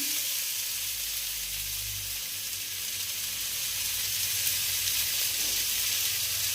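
Ginger and tomato frying in a pan give a steady, close broadband sizzle that holds evenly throughout with no voices, and any stirring is buried in the frying.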